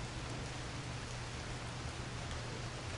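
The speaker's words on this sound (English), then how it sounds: "And it's raining." Steady rain falling in the video game The Pathless, a dense, even hiss of drops that holds constant throughout with a low hum beneath and no talking.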